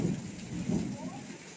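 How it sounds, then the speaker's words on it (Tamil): Low thunder rumbles through heavy summer rain in Mumbai, with a dense wash of rainfall over the brief stretch and a couple of deep swells near the start. "இடி இடிக்குது. வெடி வெடிக்குது பார்த்தீங்களா?"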